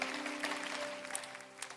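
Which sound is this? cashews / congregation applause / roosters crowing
congregation applause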